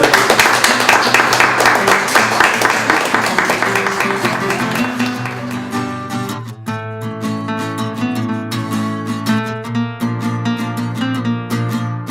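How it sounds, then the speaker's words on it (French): Applause from an audience at an evening social-economy gathering for the caterer, a dense burst of clapping for about five seconds that fades into music. "on donne une bonne main d'applaudissements à notre traiteur de ce soir"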